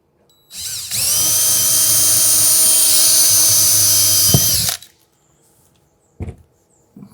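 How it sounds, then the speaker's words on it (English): A power drill whines loudly and steadily for about four seconds while pre-drilling a hole in an RV roof, then spins down, followed by a couple of faint knocks. "We want to pre-drill our hole first."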